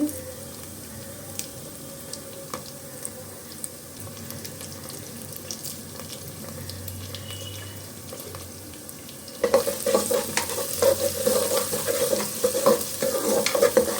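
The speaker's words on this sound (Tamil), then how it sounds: "புதினாவை போட்டு நல்லா வதக்கி வச்சு இஞ்சி பூண்டோட பச்சை வாசனை எல்லாம் போயாச்சு" Mint leaves and ginger-garlic paste sauté in a pan with a soft, continuous sizzle and occasional stirring clicks, then turn louder and crackly about two-thirds through, with denser frying pops to the end.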